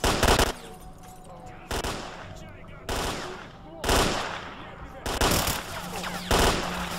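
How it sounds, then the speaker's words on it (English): Enemy gunfire in the video game STALKER: Clear Sky, loud bursts of automatic rifle fire in repeated volleys separated by short gaps, close and harsh, with a few other battle noises between bursts. "Oh, they're actually shooting my friends."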